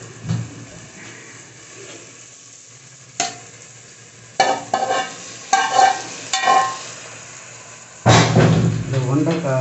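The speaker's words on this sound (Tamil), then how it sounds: "மசாலா நல்லா மிக்ஸ் ஆகிடுச்சு, இப்போ வந்து வெண்டைக்காய் போட்டுடலாம்." Masala being stirred in a frying pan before okra goes in for a fry: faint sizzling with loud spatula scrapes and clatters in bursts, heaviest toward the end. A voice talks in places.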